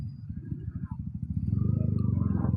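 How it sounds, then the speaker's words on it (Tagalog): A crowd of motorcycles on a night road near Changi, engines rumbling close by with a steady pulsing drone that builds in the second half, while someone talks over it. "At ito nga, maraming mga motorsiklo."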